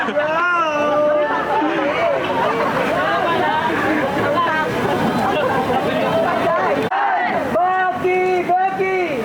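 A large rally crowd at the Trillion Peso March in the Philippines cheers and shouts, many voices overlapping in a loud, continuous roar with rising whoops, close and dense throughout.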